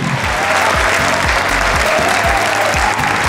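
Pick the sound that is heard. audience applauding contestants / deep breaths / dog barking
audience applauding contestants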